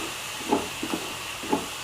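A steady sizzling hiss from water added to a hot tempering pan, with a few soft pops and bubbles rising above it, close and continuous.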